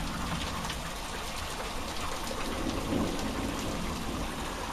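Steady rain from a nighttime thunderstorm in Tornado Alley pours down in a dense, even hiss with no break, close by and fairly loud, with no voices.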